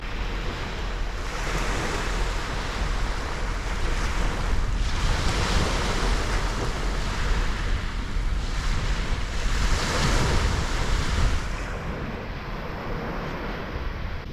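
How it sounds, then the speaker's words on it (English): Winter sea waves roll in at Shakespeare Beach, Dover, a continuous loud surf wash with repeated swells breaking and receding, mixed with gusty wind buffeting the microphone. "the sea is coming up now. It really is coming in."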